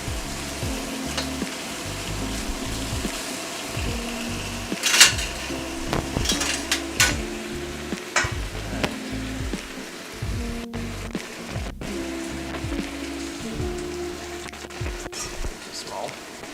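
Korean spicy pork bulgogi sizzles and fries in an overfull wok, a steady loud crackle with scraping stirs and occasional metallic clanks of the pan, with a voice talking over it throughout.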